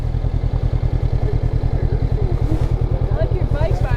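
A motorcycle idles close by in a parking lot in the Canadian Badlands at Drumheller, its steady, rapid low thumping pulse continuing throughout, with faint clatter over the top.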